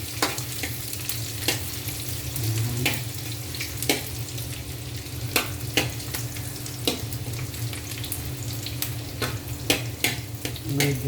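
Garlic frying in oil in a pan (kawali), a steady close sizzle with scattered sharp crackles and pops throughout, heard alone without talk.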